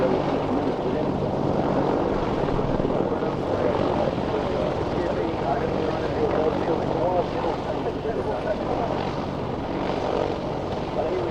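Military Lynx and Apache helicopters fly at the Waddington airshow, a continuous heavy rotor and engine roar filling the air steadily throughout, with no break.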